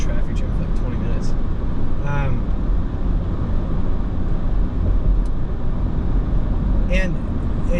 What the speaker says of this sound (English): Just drove in a traffic jam for like 20 minutes.